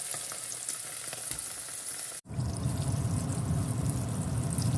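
Bangus (milkfish) fries in a pan with a steady, dense sizzle and crackle; after a brief dip the frying swells louder and fuller, with no talking.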